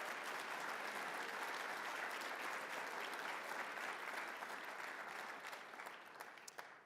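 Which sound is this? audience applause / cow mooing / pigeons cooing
audience applause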